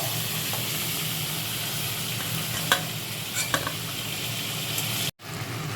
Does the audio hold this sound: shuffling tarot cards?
no